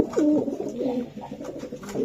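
Pigeons coo close by in soft, rolling, throaty calls that repeat over a couple of seconds.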